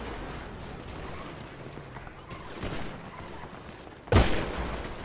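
A single loud gunshot bursts out in the GTA V video game near the end, standing out against a faint, steady background hum.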